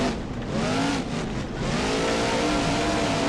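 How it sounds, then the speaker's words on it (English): A monster truck engine in the BeamNG video game revs hard and steady at a Monster Jam freestyle event in Tacoma, loud and continuous, its pitch rising and dipping with throttle, tire noise mixed in. "That was a crazy run for the BeamNG monster truck."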